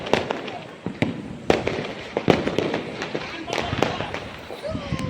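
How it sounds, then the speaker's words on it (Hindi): Firecrackers burst near a house during Diwali night, a rapid irregular series of sharp, loud cracks and pops with a few whistling rockets between them, some blasts close and others farther off, over low background noise. "घर के पास पटाखे की वजह से तो मैंने थोड़ा सा क्लिप उसका भी ले लिया था"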